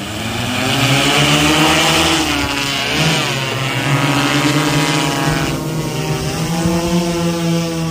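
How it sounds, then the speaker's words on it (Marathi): An agricultural spraying drone starts up nearby, its motors whining loudly and rising and shifting in pitch as the rotors spin up, a continuous buzzing drone throughout. "हा ड्रोन चालू झालेला आहे"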